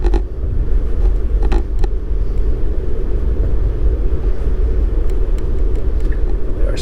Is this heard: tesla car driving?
yes